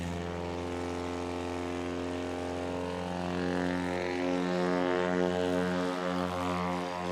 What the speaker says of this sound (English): that was a competitive takeoff by Jody Card